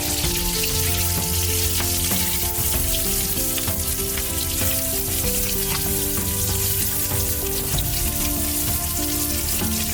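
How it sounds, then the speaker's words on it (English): Garlic and ginger frying with spicy pork in a pan for Korean jeyuk bokkeum, a loud, dense, steady sizzle with fine popping crackles and light stirring, uninterrupted. "you can add garlic and ginger. Cook for about 45 seconds"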